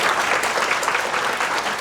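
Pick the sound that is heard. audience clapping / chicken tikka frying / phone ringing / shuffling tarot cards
audience clapping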